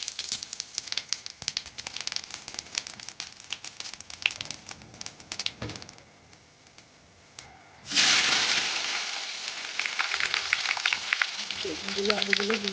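Cumin seeds tempering in hot oil for a Bengali tangra fish curry, with a sudden loud hiss and crackle bursting in partway and holding steady after a quieter stretch of kitchen clatter.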